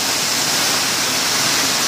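A swollen creek runs high after rain, its steady broadband rush filling the whole stretch loud and close, with no voices over it.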